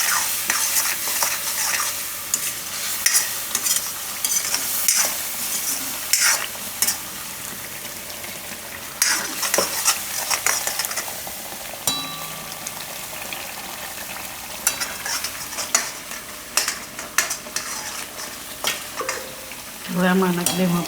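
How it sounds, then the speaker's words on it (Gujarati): Spinach mixture stirred in a frying pan for Gujarati palak paneer, with a spatula scraping and turning through a constant hissing sizzle and occasional louder pops and clatter against the pan. "થોડીક વાર આનું ફેરવી લેવાનું."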